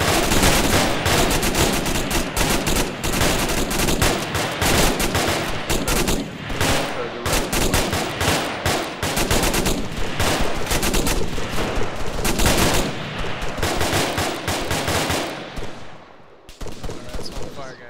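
Sustained suppressive gunfire in a military video game, dense overlapping rifle and machine-gun bursts that are loud and near, continuing for about sixteen seconds before a short pause and a final brief burst.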